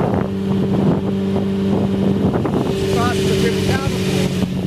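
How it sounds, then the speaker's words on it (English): Someone's first drive in a car has the engine revving and humming under close, steady wind buffeting. A person talks over it the whole time, and there is a rising whine near the end. "They give it a little bit of gas and then just go, so rev it up and then pull that up to second."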